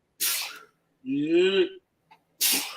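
A single sharp sneeze bursts out nearby, followed by a brief voiced exhale and another short breathy burst, with a quick word spoken.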